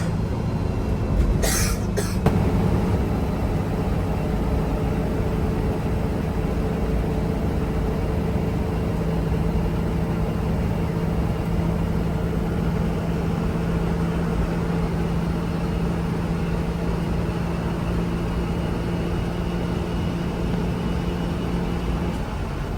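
Inside an Imperial Express sleeper bus travelling by road: a steady, dense rumble of engine and road noise throughout, with a brief cough-like burst near the start.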